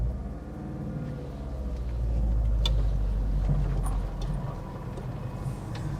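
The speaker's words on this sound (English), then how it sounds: "because it's an Italian car and you have to rev it" An Alfa Romeo Alfasud engine is revved, a low rumbling drone that swells and holds for a few seconds, then eases off, with faint clicks over it.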